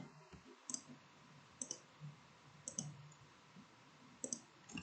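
Computer mouse and keyboard clicks while designing a poster in Canva, a handful of sharp, close clicks spaced irregularly over a low room hiss, with no talking.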